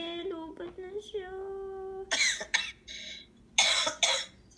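A person coughing in a domestic setting, several harsh, loud bursts in quick clusters, heard close and following a stretch of high, sing-song child-like vocalizing.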